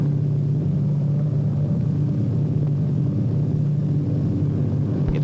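An airplane passes high over a big city, giving a steady, loud engine drone and low rumble that holds level throughout with no voices.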